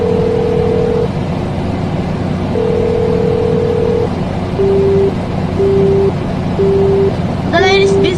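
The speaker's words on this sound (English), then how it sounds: "The line is busy." Telephone busy signal on a Murray Hill line: two long tones, then a run of shorter evenly spaced beeps over a steady hum, loud and close, with a voice briefly at the end.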